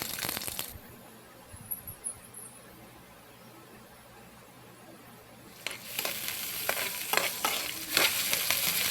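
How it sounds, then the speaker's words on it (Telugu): Chopped vegetables go into hot oil in a pan for chicken manchurian noodles. A low sizzle runs under quiet background noise, then louder frying crackles and scraping stir strokes take over near the end, close-up, with no talk. "ఆయిల్ హీట్ అయ్యాక ఇప్పటివరకు మనం కట్ చేసుకున్న కూరగాయలన్నిటిని వేసుకుందాం."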